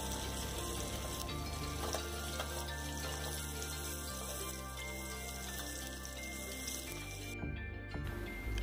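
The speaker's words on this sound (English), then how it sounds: "Then add the onions and saute them until they become translucent" Chopped garlic and onions sautéing in a pan for Filipino-style burger steak, a steady close hiss and sizzle running continuously throughout with faint clinks over a low background hum.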